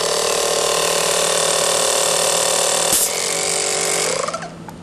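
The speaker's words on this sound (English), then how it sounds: "We have an air port on the side sticking out of these uprights that allows us to plug a small air compressor in." A small air compressor runs steadily, loud and constant with a dense mechanical hum, pressurizing a robot's uprights through a side air port to over 200 psi, then winds down near the end after a brief click.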